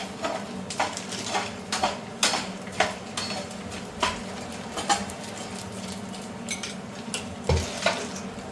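Cashews and almonds dry roasted in a pan with no ghee, stirred with a spatula: repeated scraping and rattling strokes over a faint sizzle, close and steady with no voices.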